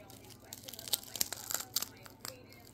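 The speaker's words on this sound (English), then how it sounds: "Hear that crunch?" Crinkly crunching and rustling from handling a Jersey Mike's turkey and provolone sub, a quiet run of irregular crackles and crisp snaps heard up close.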